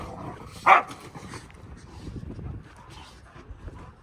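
Dogs at a house construction site where walls, roof and OSB sheathing are going up; one sharp bark stands out near the start, followed by quieter outdoor noise and faint low voices.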